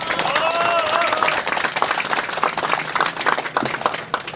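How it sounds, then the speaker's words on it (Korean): Audience applause of thanks at a 38th anniversary ceremony commemorating the June 10 democracy movement: steady, dense clapping from a sizable crowd throughout, with some voices mixed in. "우리 이분들에게 감사의 박수를 한번 쳐드리면 좋겠습니다."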